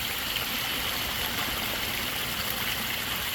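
A backyard koi pond waterfall pours water in a continuous, steady trickle and wash, heard close and alone with no other sounds.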